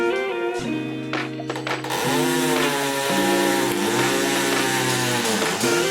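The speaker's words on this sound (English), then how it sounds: "Drill a hole in it." A loud power tool whines and revs continuously, its pitch bending as it bites in, like a drill boring through material up close.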